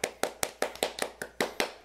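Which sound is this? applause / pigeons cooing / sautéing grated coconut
applause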